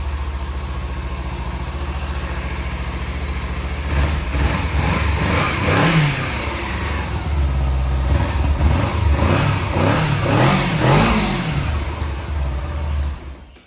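A 2016 Kawasaki Z250 motorcycle idles with a steady low throb, then is revved several times in short bursts that climb and fall, close up and loud, before settling back and cutting off at the end.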